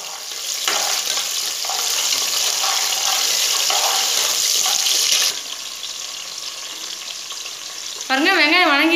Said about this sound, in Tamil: சின்ன வெங்காய நம்ம தேவையான அளவு போட்டுக்கலாம் நம்ம போட்டு நல்லா வணக்கிடலாம்